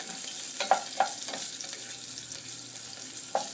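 Chilies and bay leaves frying in a pan give a steady close sizzle, broken by a few sharp pops and stirring clinks, with no voices.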